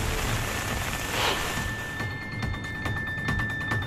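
Heavy summer rain driven by strong wind in Hubli, Karnataka makes a dense, hissing wash of noise, with sharp gusty bursts and spattering impacts toward the end.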